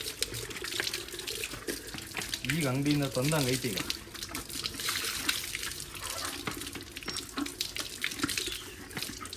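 Tap water runs steadily while chicken water cans are rinsed out on a poultry farm, with splashing swells and someone speaking throughout.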